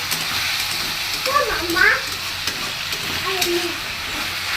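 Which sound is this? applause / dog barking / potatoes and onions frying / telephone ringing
potatoes and onions frying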